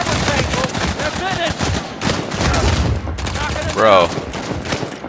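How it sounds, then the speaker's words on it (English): Dense rapid gunfire in an Uncharted 4 multiplayer match, overlapping bursts and shots crackling almost continuously and loudly while a player talks over the fighting. "Can I shoot my gun?"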